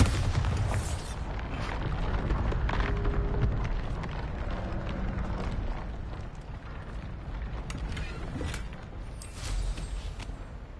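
Bombarda blasting spell cast in the video game Hogwarts Legacy, a deep booming explosion with a loud rumbling burst up front, followed by sustained crackling debris and a second smaller blast near the end.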